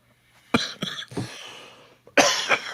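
A handful of harsh, close coughs in quick succession, then a short pause before a louder final burst of coughing.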